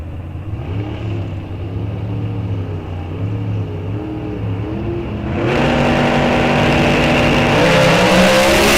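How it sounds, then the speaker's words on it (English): Drag racing roadster with a 310 cubic inch engine at an NHRA Comp Eliminator event, revving in loud rising and falling bursts at close range, then jumping to a harsher, sustained high-rpm blare. "Roadster, 310 cubic inch. Also, just making RPMs."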